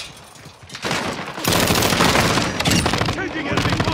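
Dense automatic gunfire rattles continuously in Call of Duty: Modern Warfare II on the Shipment map, loud bursts packed together with overlapping shots and a talking voice mixed in.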